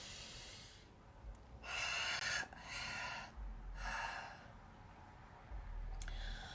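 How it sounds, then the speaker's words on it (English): Deep breaths drawn in and let out at a virtual full moon prayer circle, several airy rushes of breath over a low steady background, close to the microphone. "I'm going to take a deep breath."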